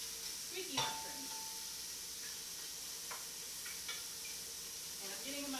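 Mushrooms brown in a hot pan with a continuous sizzle and hiss, broken by a few light scrapes and clinks of stirring against the pan.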